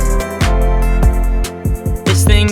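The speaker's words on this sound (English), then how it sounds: "So in the second chorus I added another pluck" A synth pluck layer added in a pop song's second chorus stabs out short bright notes over a dense, full mix with heavy low end, loud and busy across a couple of seconds.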